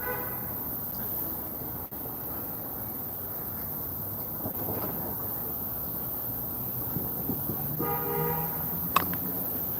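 Car horns honk briefly in traffic over a constant road rumble, a couple of short toots near the end standing out from the steady background noise.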